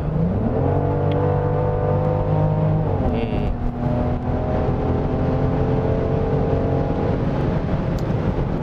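Genesis GV70 3.5T AWD SUV with twin-turbo V6 accelerating hard in sport mode, heard from inside the cabin: a steady, loud engine drone rising in pitch, briefly dropping at a gear change, then climbing again.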